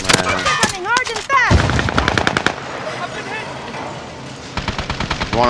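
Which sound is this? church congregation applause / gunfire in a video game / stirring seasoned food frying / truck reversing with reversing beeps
gunfire in a video game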